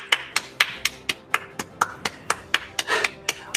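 About fourteen sharp, evenly spaced hand claps at an awards ceremony. The slow, sparse clapping sounds close and comes from just a few hands rather than a full audience.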